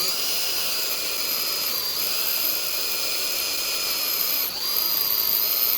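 A power drill boring out a wheel lock on a Fiat 500 wheel, giving a loud steady high-pitched squeal that holds almost unbroken, dipping briefly once near the end before resuming, with no talking.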